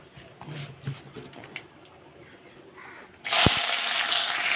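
Vegetables tumble into a hot pan of oil tempered with kalo jeera (nigella seeds) for a Bengali chorchori, setting off a sudden loud, steady sizzle that continues to the end after a quieter stretch of faint kitchen sounds.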